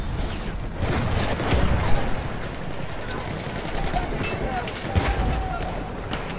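Shotgun gunfire in Battlefield 1, several sharp reports scattered through a dense, noisy battlefield din of distant shooting and rumble, with a voice speaking over it.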